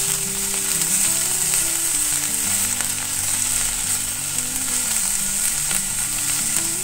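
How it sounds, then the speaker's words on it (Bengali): Green chili and coriander leaves fry in hot oil with a steady, close sizzle that crackles evenly throughout, with no voices. "গ্রিন চিলি আর কোরিয়েন্ডার লিভস অ্যাড করে দিলাম। এইটা সুন্দর করে ভেজে নেব।"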